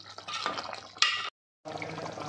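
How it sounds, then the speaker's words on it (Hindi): Water poured from a glass into a pot of mutton kofta curry, a close splashing pour that breaks off briefly into silence and then resumes with a steady liquid rush. "अब इसमें थोड़ा सा पानी डालेंगे और फिर बस इसे डिश आउट करूँगी मैं।"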